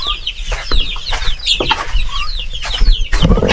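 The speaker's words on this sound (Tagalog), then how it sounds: "Sisiw." Chickens cluck and chirp busily on a small farm, several birds close by with overlapping calls and a few higher peeps, continuous and fairly loud with no talk.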